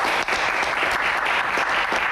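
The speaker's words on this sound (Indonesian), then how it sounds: "tepuk tangan buat mereka berdua." A studio audience claps enthusiastically for two Indonesian Air Force pilots, a captain and a second lieutenant, during a talk show. The applause is brief, close and steady, with dense overlapping claps.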